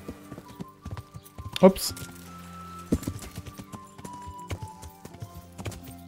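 Horse hooves clip-clop steadily on the ground while riding in the medieval video game Kingdom Come: Deliverance, a close rhythmic trot with a brief snort, while someone talks over it.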